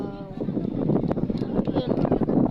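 Strong gusts at the Chocolate Hills buffet the microphone in a rough, rumbling roar, with faint activity underneath and no clear voice.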